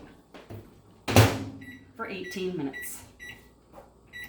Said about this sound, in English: I'm going to put this then in my microwave